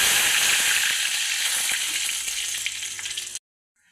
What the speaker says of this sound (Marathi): तेल गरम झालेलं आहे, त्याच्यात 1 चम्मच टाकूया जीरा, आता टाकूया कढीपत्ता